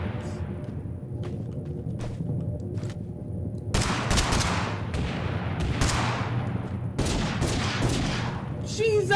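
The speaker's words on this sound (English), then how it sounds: "M16s? Different kind of guns? No, just a Browning M2." Browning M2 heavy machine gun hammering in Totally Accurate Battlegrounds, several loud sustained bursts of rapid fire with a quieter lead-in of scattered shots, strong broadband blasts cutting in and out.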